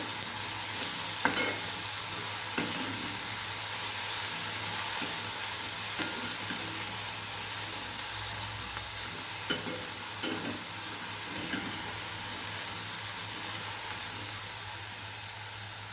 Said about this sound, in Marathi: मीठ टाकून हे हलवून घ्यायचे आपल्याला